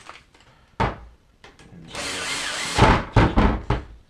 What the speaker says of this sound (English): we're going to cheat by taking the drill